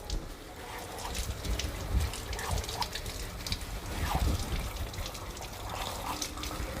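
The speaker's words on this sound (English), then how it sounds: "we need to rinse the sample at the right time" Tap water running over a printed textile sample during rinsing, a steady splashing stream with slight fluctuations, close and continuous without voices.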